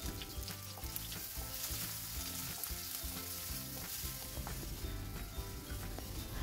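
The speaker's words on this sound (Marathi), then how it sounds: "कढीपत्ता छान असा तडतडला की त्यामध्ये 2 मध्यम आकाराचे कांदे जे बारीक चिरून घेतले आहेत ते आपण फोडणीला देणार आहोत" Finely chopped onions frying in a tempering with curry leaves: a continuous soft sizzle and crackle of hot oil, steady and even throughout with no talk.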